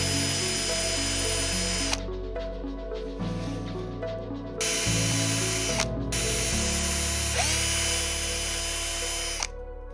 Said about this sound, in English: I will drill pilot holes in each corner of the panel